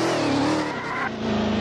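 A car in the Roblox game ERLC drives with a steady engine drone while its tires skid and squeal, loud and close throughout with no talking.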